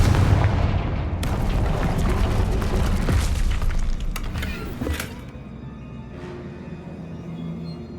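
Loud explosive blasts from the Confringo fire spell in the Hogwarts Legacy video game, a dense booming burst for about five seconds followed by a quieter rumbling tail, with no talking.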